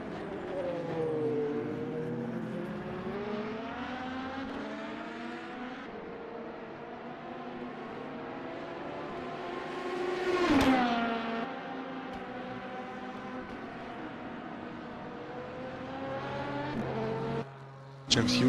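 Race cars in a sim racing endurance video game at COTA, including the LMP2 field, with engine tones rising and falling through shifts and a brief loud close pass partway through, then a sudden drop near the end.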